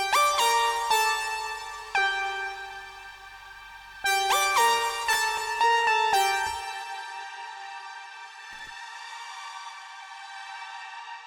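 A bright synth lead plays a stepping melody of sustained tones, ringing out and fading with a long decaying tail at the end.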